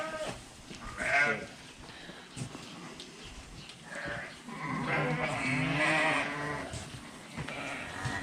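Sheep bleating on a farm at lambing time, several loud wavering bleats from animals close by, overlapping in bursts, with quieter stretches between.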